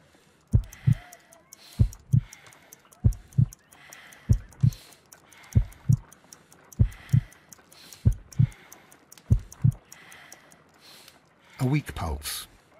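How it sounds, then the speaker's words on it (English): A heartbeat in the Sherlock Holmes: Crimes & Punishments video game: slow, regular double thumps, about eight of them, followed by a brief breathy voice at the end. "I need to concentrate and count the heartbeats."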